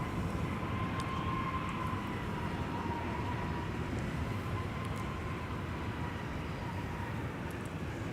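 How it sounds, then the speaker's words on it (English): A Delta Airbus A220 arriving at Minneapolis–St. Paul Airport gives a distant, steady engine roar with a faint whine, moderately quiet and continuous, with no talking. "Delta 439 that we just saw, an Airbus A220 arriving from Dallas"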